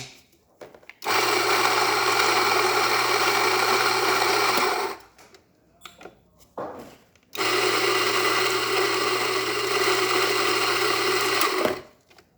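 A coffee grinder grinds espresso beans to a fine espresso grind while its chambers are being emptied. It gives two long, steady, loud whirring runs with a brief pause of handling noises between them.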